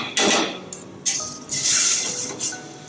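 Garlic and ginger hit a pan for a sweet and sour sauce, bringing a close clatter of utensils against the pan and bursts of hissing sizzle.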